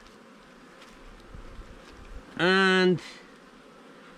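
Honeybees shaken from a hive frame in a queenless colony burst into a loud, rising buzz for about half a second, after a quieter stretch of low hive hum and faint handling noise.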